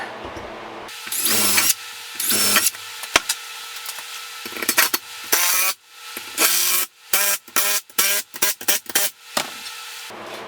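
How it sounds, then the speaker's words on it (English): A power drill pilot-drills holes for wall-mounting a bench grinder, running in several loud, close bursts of whirring that start and stop abruptly, with short quiet gaps and a few quicker stabs near the end. "We'll pilot drill the other two."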